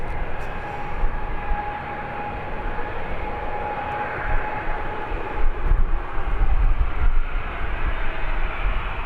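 A Lufthansa airliner in Star Alliance livery lands at Birmingham Airport, its engines making a broad, steady rumbling roar that grows slightly louder toward the end, with no talking.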